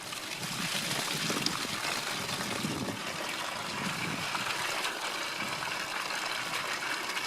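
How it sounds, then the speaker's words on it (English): Water running by gravity from a tank through a laundry manifold, a continuous soft trickling flow with a low rumbling undertone, steady throughout and without speech. "water coming on maybe. This should just gravity flow."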